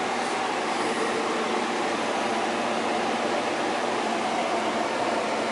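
A gas stove burner roars steadily under a pot of Portuguese kale soup, a constant, even hiss of flame that neither rises nor fades.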